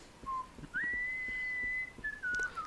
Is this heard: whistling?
yes